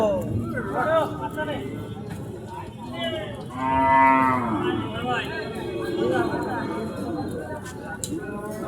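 Cattle and calves moo repeatedly at a busy cattle market in Bangladesh, with a long, loud low call in the middle, mixed with nearby chatter and people talking throughout.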